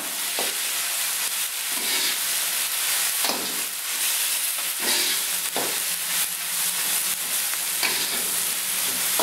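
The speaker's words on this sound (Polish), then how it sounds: "Całą razem mieszamy." Seafood and softened broccoli stir-fried together in a pan give a constant bright sizzle, broken by periodic scraping stirs at a steady pace, with no voices.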